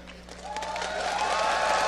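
An arena esports crowd at a League of Legends tournament cheers for Counter Logic Gaming EU, a broad swell of cheering and applause that builds steadily and stays loud to the end.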